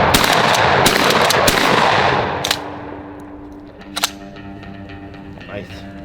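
A Blackwater Sentry 12 shotgun fires a fast string of loud, sharp blasts up close, followed by a ringing decay and one more isolated shot a moment later.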